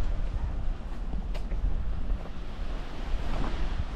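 Surf at Ferradura Beach in Armação dos Búzios, Brazil, a continuous broad wash of waves with rumbling wind noise on the microphone, steady throughout.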